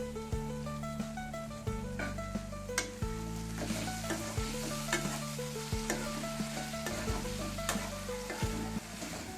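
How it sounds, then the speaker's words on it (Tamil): Steady sizzling in a hot pan with repeated scraping strokes as grated coconut is sautéed and stirred, close and continuous. "துருவின தேங்காவை அதில் சேர்த்து ஒரு வதக்கு வதக்கிக்கோங்க"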